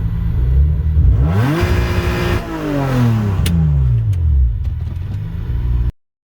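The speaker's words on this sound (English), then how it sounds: "Well, the motor's in and running." A turbocharged V6 swapped into a Hyundai Tiburon idles and revs up and down close by, its loud engine note climbing and falling twice before cutting off abruptly.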